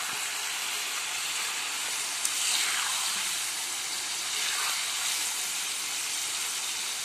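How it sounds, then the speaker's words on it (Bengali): Chicken pieces spiced only with a little turmeric and salt fry in a pan, giving a continuous steady sizzling hiss that stays even and fairly close throughout, with no talking. "এর মধ্যে মুরগিটা ভাজা হচ্ছে"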